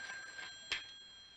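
A telephone bell in an older TV drama rings with a bright, sustained metallic tone that decays, followed by a short, sharper trill, heard alone and fairly faint.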